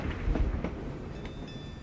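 A tram rolls along in Assassin's Creed Chronicles Russia, a steady rumbling clatter with rhythmic knocks and a faint metallic ring, heard alone at moderate volume.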